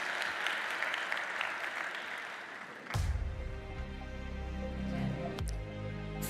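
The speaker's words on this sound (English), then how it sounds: "Please, a big round of applause for the excellencies and our honored guests." Applause from the audience at a Global AI Summit session honoring the excellencies and guests, heard fairly faintly at first and then mixed with a swelling musical sting and fuller sound after the midpoint.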